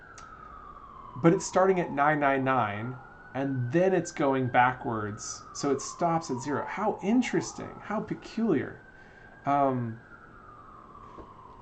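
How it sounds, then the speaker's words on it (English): A siren wails faintly in the background as a long, slowly sliding tone that persists under continuous close talking throughout. "Sorry if you can hear the sirens in the background."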